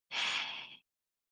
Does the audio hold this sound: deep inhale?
yes